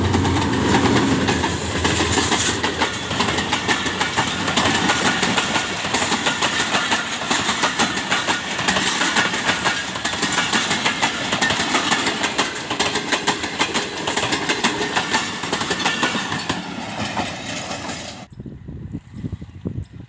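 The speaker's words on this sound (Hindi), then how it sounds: "ये हुकूमत पाकिस्तान की तरफ से ये ट्रेन है।" Pakistani train passing a closed village railway station, heard close and loud as a continuous rattling clatter of wheels on track that cuts off sharply near the end, with no talk.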